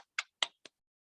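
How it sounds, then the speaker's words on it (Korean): Children at an online Zoom worship service clap in a few sparse, isolated claps, three or four sharp snaps close to the microphone with silence between. "하나님께 영광의 박수 올려드리도록 하겠습니다."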